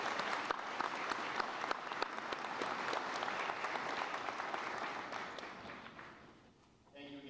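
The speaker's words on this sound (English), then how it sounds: "How about a quick round of applause in appreciation for those who support us?" A commencement audience in a large hall breaks into a dense round of applause, loud and sustained, thinning out toward the end as the clapping fades.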